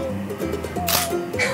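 A camera shutter clicks once while a portrait is being taken, a short crisp snap heard close up over faint background sound.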